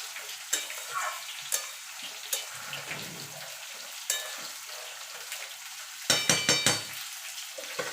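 Kochur loti (taro stolons) with slit green chillies sizzle and spit in a pan, a steady close frying hiss punctuated by irregular sharp pops and a quick cluster of crackles near the end.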